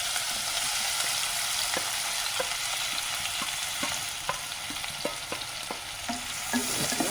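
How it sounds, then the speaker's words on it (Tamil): Onions sauté in hot oil for village-style mutton kothu kari, a constant crackling sizzle punctuated by repeated light scraping taps of a spoon stirring the pan. "நல்லா இந்த எண்ணெயிலே நல்லா வணக்கிக்குவோம்"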